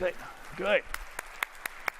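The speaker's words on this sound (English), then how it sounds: "Would you all please clap your hands?" A keynote audience claps on request after a voice speaks briefly, leaving a short series of sharp, separate claps spaced evenly apart, fairly faint and distinct.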